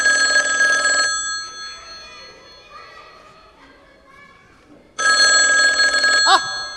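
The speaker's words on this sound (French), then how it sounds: "C'est mon téléphone." A telephone rings in bright electronic bursts at the start and again near the end, loud and close, with children's chatter and a voice in the quieter stretch between.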